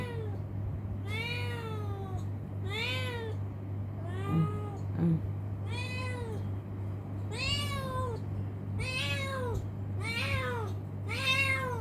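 A pet cat meows loudly and repeatedly, about seven drawn-out, wavering calls in a steady rhythm, heard close up over a constant low hum.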